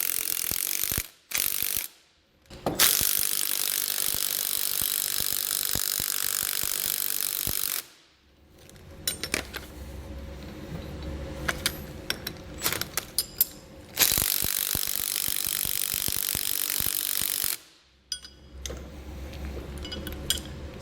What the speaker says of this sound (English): I'm gonna grab a 19mm socket and wrench.